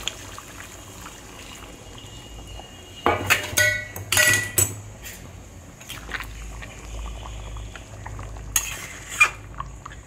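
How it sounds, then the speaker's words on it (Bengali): Hot water poured into a pot of Bengali chicken curry (chicken kosha) nearly done frying in oil, bursts of splashing and sizzling with clinks of a metal spoon against the pot, close and moderately loud with quieter pauses between. "এবার এর মধ্যে জল দিয়ে দেবো, এই গরম জলটাই দিয়ে দেবো।"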